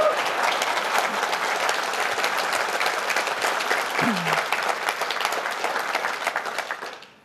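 Conference audience at PyCon AU 2019 applauding to welcome a speaker to the stage: dense, steady clapping from a large crowd that holds for about seven seconds, then fades out.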